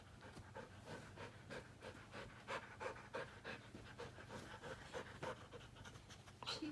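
A dog pants quickly and rhythmically close by, soft and steady, with no talking.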